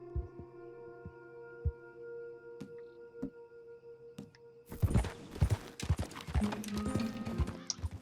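Horse hooves clip-clop in Red Dead Redemption 2, first as a few sparse, separate steps over a low steady hum, then breaking into a quicker, louder run of close hoofbeats with snorting and tack noise.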